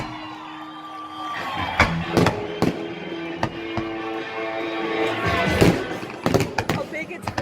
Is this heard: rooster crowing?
no